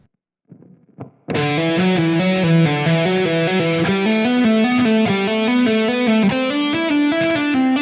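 Heavily distorted electric guitar plays a fast, smooth legato run of connected notes, continuous and loud after a couple of short plucks.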